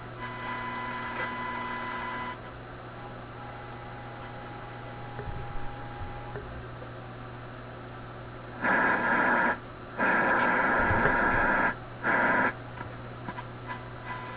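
A homemade AM radio built from a Mykit System 7 kit hums quietly, then bursts of loud static and tones cut in and out as it is tuned, in a workshop.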